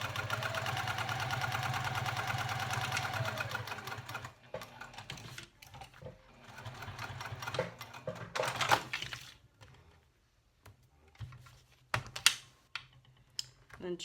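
Sewing machine stitching around the card slot panel of a tall wallet, a steady close motor hum for several seconds, then broken bursts and clicks as the work is handled, with quiet talk alongside.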